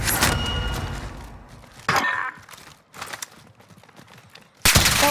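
Game gunfire bursts in a shooter firefight, loud sharp volleys near the start, around two seconds and again at the end, with quieter rattling between.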